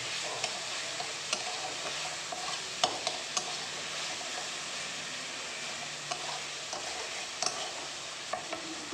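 A spiced chicken mixture being stirred in a pan before mashed potato goes in for cutlets, with steady hissing sizzle and occasional light spatula clicks and scrapes, fairly quiet.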